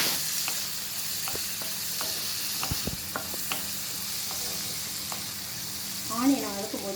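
Onions sautéing in a pan for a Tamil-style banana blossom stir fry, a steady broadband sizzle close up with repeated scraping stirs of a spatula and a brief louder clatter near the end.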